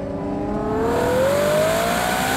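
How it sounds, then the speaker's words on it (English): A 2024 Ferrari Purosangue's naturally aspirated V12 revs up hard under acceleration, one loud, close, rising engine note climbing steadily with a whirring edge and no talking. "And it bangs off the rev limiter."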